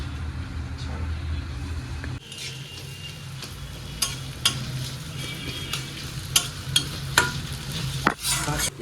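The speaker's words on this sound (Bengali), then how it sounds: "পেঁয়াজ আর এই কাঁচা লঙ্কা রসুনটা ভাজা ভাজা হয়ে গেছে" Onion, green chilli and garlic fry in a pan with a soft continuous sizzle, broken by sharp spatula scrapes and clinks against the pan. A low engine hum runs underneath, and a few murmured voices are heard.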